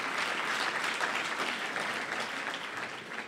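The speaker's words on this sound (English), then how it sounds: "Give her a round of applause, one of the big leaders of the anti-globalization struggle." Audience applause for an anti-globalization leader at a talk at Presidio Graduate School. The clapping is dense and steady, holds at an even level throughout, and stands alone with no voices over it.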